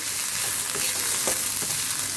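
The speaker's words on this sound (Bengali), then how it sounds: "এইবারে এটাকে একটুখানি লালচে করে ভেজে নিতে হবে" An egg dish with dried red chili fries in a pan, giving a steady close sizzle with faint stirring scrapes and no talking.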